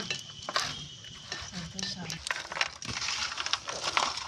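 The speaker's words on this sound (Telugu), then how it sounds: "బాగా మిక్స్ చేసుకోవాలండి ఇది పాకం అటు ఇటు మొత్తం అన్నీ కలిసిలాగా మిక్స్ చేసుకోవాలి" A spoon stirs sweet diamond chips through sticky sugar syrup in a pan, scraping and clinking against the metal in uneven, busy strokes close up.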